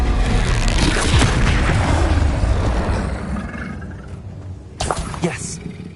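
A Confringo fire spell from Hogwarts Legacy erupts in loud, dense booming blasts that roll on for several seconds, fade, then a second sharp burst hits near the end, with a voice talking over the game.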